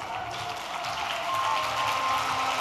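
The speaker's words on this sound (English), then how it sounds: "I want all of you to clap in appreciation." Crowd applause at the NDC 2024 manifesto launch, a fairly faint, distant patter of clapping that swells slightly toward the end.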